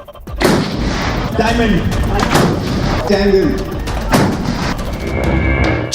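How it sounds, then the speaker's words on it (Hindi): A US-made M777 ultra-light howitzer fires during trials at Pokhran, Rajasthan. Loud, booming blasts with heavy rumbling decay repeat under a narrating voice. "भारत ने अमेरिका से ultra light howitzer gun M777 मंगाई है, जिसका ट्रायल फिलहाल राजस्थान के पोखरण में चल रहा है"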